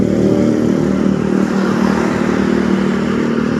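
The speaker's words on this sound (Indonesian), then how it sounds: "Tapi ya ruame motor tok iki." Motorcycles pass along a street at night outside a roadside warung in Warujayeng, a steady, loud engine drone with rumbling revs and clatter that fills the whole stretch without any talking.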